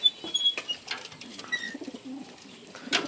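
Racing pigeons coo softly in their cages, a nearby mix of low throaty murmurs and scattered chirps, with light rustling and a few sharper calls, no talk over them.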